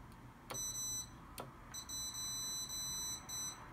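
Close, high-pitched beeps from a multimeter on continuity mode during a synthesizer repair, two short ticks followed by several sustained tones of varying length with brief gaps between them.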